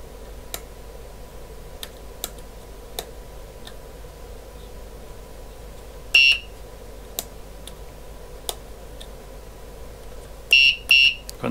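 A buzzer sounder on a cheap electronics kit gives short, sharp electronic beeps: one isolated beep, then a quick cluster of several near the end. Faint regular ticking runs underneath, with no talking.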